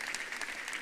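A church congregation claps in praise, a brisk burst of many hands slapping together in a dense, steady patter that fills the brief moment without pause.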